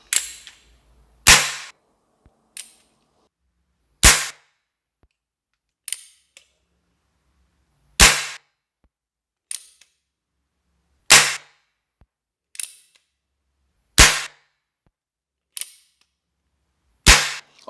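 Denix cap shells fired one at a time in a full-metal replica revolver: about ten sharp, loud cracks spaced roughly every one to two seconds, with light mechanical clicks of the action in between and no talking.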